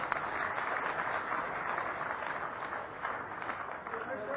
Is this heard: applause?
yes